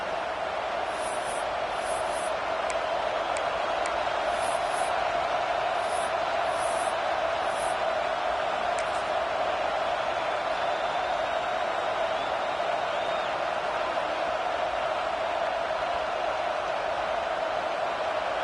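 A steady, continuous stadium crowd roar from a college football video game, Florida playing, with a field goal attempt coming late in the first half. The noise holds loud and unbroken throughout, with faint high whistles early on.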